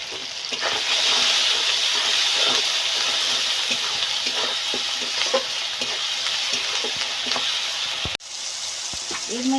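A paste of ginger, garlic, turmeric and salt masala sizzles and fries in a pan for a continuous, loud stretch, with occasional scraping stirs and a brief clatter near the end.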